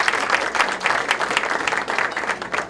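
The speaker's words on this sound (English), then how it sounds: "give him a big round of applause" An audience at a comedy magic show applauds steadily. The clapping is dense and sustained and keeps an even level through the whole stretch.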